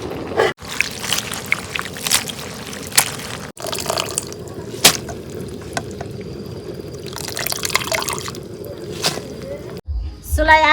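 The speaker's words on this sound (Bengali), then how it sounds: "এখন আমি ধুইয়া নেই।" Tap water runs steadily into a sink while onion peels are rinsed, with splashing and trickling up close and a few brief breaks in the flow.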